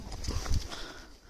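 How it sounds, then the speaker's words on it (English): Horses walking along a forest path in Red Dead Redemption 2, hooves clip-clopping at close range in a few loose, uneven knocks, fairly quiet. "Don't want to bother the horses."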